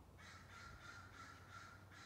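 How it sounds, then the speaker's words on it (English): Crows caw repeatedly in a wet garden, about six rhythmic harsh calls in quick succession, faint and distant-sounding, with no talk. "Birds are very loud."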